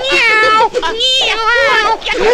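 A voice imitates a cat's meow in a Tamil comedy scene, drawn-out nasal mewing calls repeated loudly and close, broken by a brief pause.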